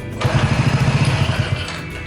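A kick-start on a viewer's small engine, choke left off: after a thump, the engine catches in a rapid run of loud, close, chugging pulses for over a second, then fades to a lower rumble.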